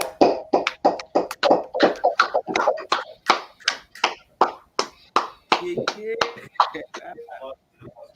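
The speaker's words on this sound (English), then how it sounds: "Clap it up, clap it up." A small group of people clapping in a quick, steady rhythm, crisp and close, with a voice chanting over the claps throughout.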